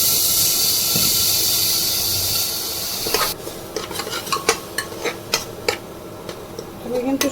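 Onion paste and spices cooked in a nonstick pan, opening with a strong steamy hiss that cuts out suddenly, followed by a series of quick spatula scrapes and clicks against the pan, close and fairly loud.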